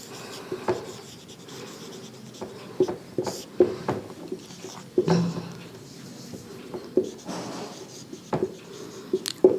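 Pen or marker scratching out handwritten notes on a surface, a steady string of short rubbing strokes with brief pauses, close and fairly quiet.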